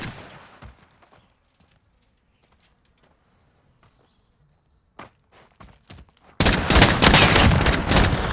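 Dual pistols fire in a Call of Duty match, scattered sharp shots and footsteps at first, then a dense, loud burst of rapid gunfire that continues to the end, with no talk.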